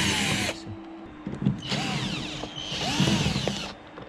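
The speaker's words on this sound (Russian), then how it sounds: "начну откручивать козырьки с плафоном" A power screwdriver unscrews the sun visors and dome light from the roof of a Lada Granta during soundproofing work, giving three short, close whirring bursts separated by brief pauses, with no talking.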